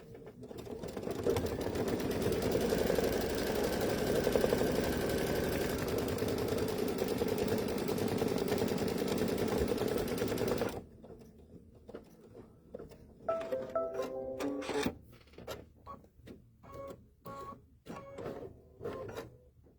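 An embroidery machine stitching a placement line runs with a dense, steady rapid chatter for about ten seconds, then stops, leaving irregular softer clicks and handling taps.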